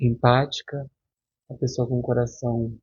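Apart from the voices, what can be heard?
No distinct noise like a dog, phone or traffic.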